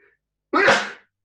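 A single loud sneeze close by, sharp and explosive, in an otherwise quiet room.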